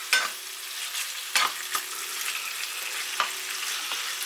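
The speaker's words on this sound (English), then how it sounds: "we just stir and fry that now until it starts to brown" Lamb stir-frying in olive oil in a pan gives a steady close sizzle, with several sharp scrapes and clatters of the stirring utensil spaced through it and no voices.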